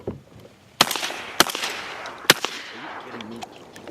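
Three sharp shotgun blasts ring out while duck hunters shoot from a boat, the shots spaced unevenly and each trailing a brief echo across open water, then quieter outdoor ambience.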